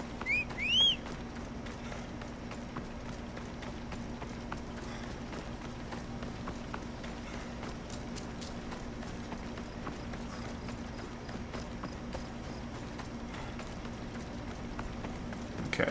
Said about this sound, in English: this horse is being real loony